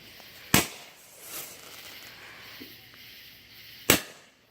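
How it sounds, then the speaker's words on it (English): Roman candle fireworks go off in a backyard on the Fourth of July, giving two sharp, loud pops a few seconds apart with a softer burst between them, over quiet outdoor background. "This is Roman candles."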